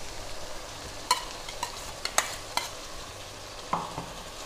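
Tomato paste being stirred into potatoes and eggplant frying for a Tamil gravy: a spoon scrapes and clacks against the pan in several sharp, irregular strokes over a faint, low sizzle.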